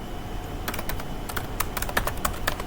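Someone types code on a computer keyboard, a brisk irregular run of close, crisp key clicks coming in small bursts over a quiet room hum.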